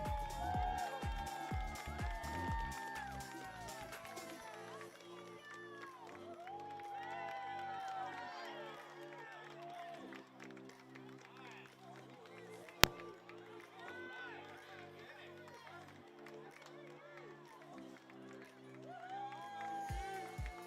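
Crowd cheering and shouting for youth racers on the home straight of a cycling track, lively voices rising and falling over a low music bed, with an announcer talking over it.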